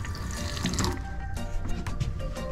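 Water runs steadily from a kitchen faucet into a stainless steel sink aboard a boat, a continuous splashing hiss with no talking.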